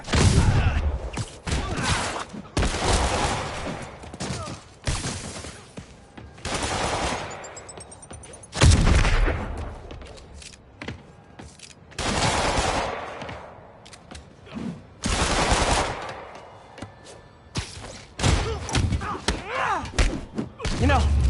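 Enemy gunfire in Marvel's Spider-Man video game, repeated loud bursts of shots and heavy impacts in clusters over about twenty seconds, mixed with thuds of combat and occasional game voices.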